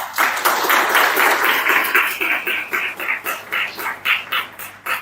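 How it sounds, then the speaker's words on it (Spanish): Steady applause from a crowd, continuous clapping that grows more uneven and pulsing toward the end. "Por favor, un fuerte aplauso."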